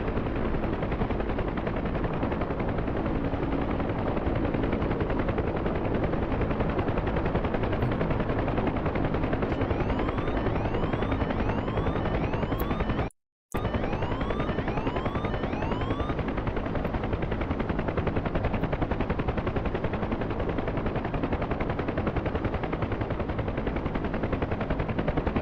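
An Apache helicopter in a combat search-and-rescue video game, its rotor roar loud and unbroken alongside continuous gunfire and machine-gun bursts, cut by one brief dropout midway.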